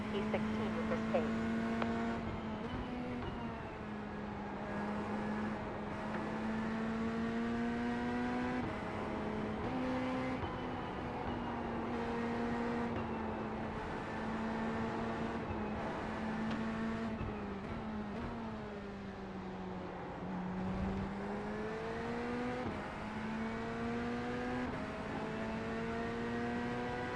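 Race car engines in the iRacing sim, with a pack of Porsches, Corvettes and a few Fords droning steadily, their pitch rising and falling through gear changes. People talk over the engines throughout.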